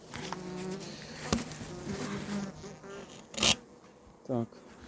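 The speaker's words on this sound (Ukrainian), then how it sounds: "Забагато бджоли набрали. Пару бджілок випускаємо." Carniolan honeybees buzz close by in a steady, wavering drone, with a few sharper clicks and a louder burst near the end.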